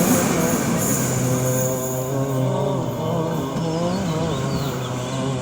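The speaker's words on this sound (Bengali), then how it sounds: "ও যে দূরে ট্রেন চলে যাচ্ছে।" A train rumbles steadily along the rail line, a loud, continuous low roar with shifting metallic tones and a faint squeal as it moves off, with no voices.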